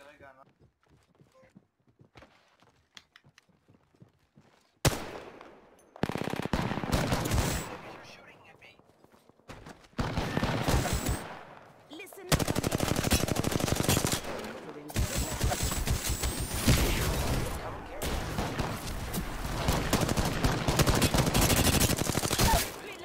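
Gunfire in the Apex Legends video game, rapid automatic bursts and shots erupting loud and close after a quiet start, continuing in dense volleys with footsteps, while people talk over it.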